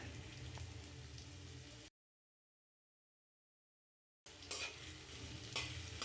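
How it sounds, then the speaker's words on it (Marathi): Green chili thecha sautéing in about two tablespoons of hot oil in a pan, a close steady sizzle and stirring hiss, cut off by a stretch of silence before the frying noise returns. "ठेचा ॲड केल्यानंतर तो अगदी थोडा वेळ परतवून घ्यायचा आहे"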